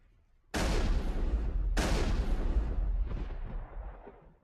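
Two heavy, booming gunfire blasts in the Mass Effect video game, each striking hard and then fading into a long, rumbling decay with no talk over them.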